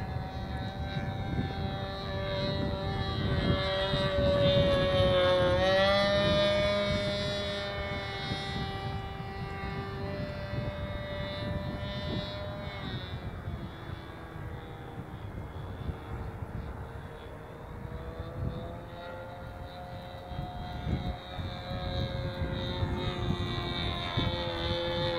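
Sig Smith Miniplane model airplane engine drones steadily in flight at a model airfield in Hemet, California, a continuous buzzing tone that swells and shifts pitch as it passes, loud throughout with no talk.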